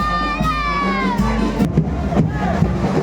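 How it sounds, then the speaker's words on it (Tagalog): At a street fiesta procession, a crowd shouts and cheers up close in a loud, lively jumble of voices, with high-pitched cries and brief bursts of noise, and no clear speech. "hiyawan ng mga tao"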